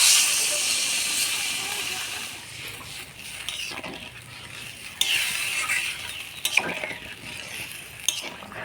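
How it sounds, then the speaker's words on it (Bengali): Water goes into a simmering potato and eggplant curry in a pan, bringing a loud hiss and sizzle that settles into bubbling, with a few sharp utensil clinks and stirring sounds close by. "আলু বেগুন মজে গেছে, এবার জল দিয়ে দেবো।"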